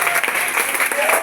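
Congregation applauding at a church service, a steady wash of many hands clapping with voices mixed in, loud and close throughout.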